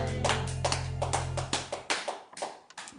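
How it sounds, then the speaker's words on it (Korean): A church congregation claps together during a worship service, a burst of sharp, fairly close hand claps that starts over a sustained organ-like tone and turns into scattered, uneven claps as the music fades. "하나님께 박수입니다."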